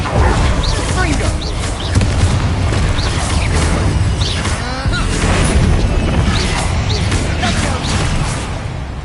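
Fire-blast spell explosions from Confringo in the video game Hogwarts Legacy, loud dense booms and crackling bursts layered over continuous battle noise, with a voice talking over the action.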